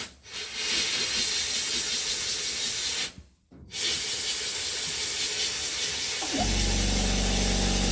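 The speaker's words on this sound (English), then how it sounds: "we'll just see how the air compressor handles something that needs a lot of air pressure" Air blown onto a cabinet from an AEG silenced 3.0HP 60L air compressor, a loud steady hiss with one brief break, then a low motor hum joining in under the hiss near the end.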